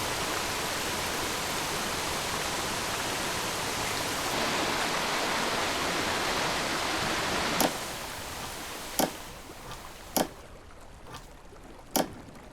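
Video game drain simulation: steady rushing water pours and hisses continuously, close and even; it drops away partway through, leaving a few sharp isolated clicks against a quieter background.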